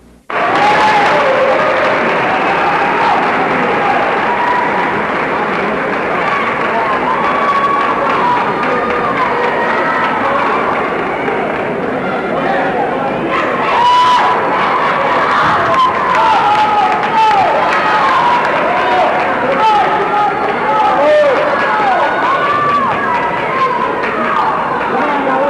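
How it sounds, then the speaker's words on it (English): Crowd at a high school volleyball sectional game, Kankakee Valley against Lowell, keeps up loud, continuous rhythmic chanting and clapping through a timeout and fills the gym throughout. "you can hear the crowd chanting."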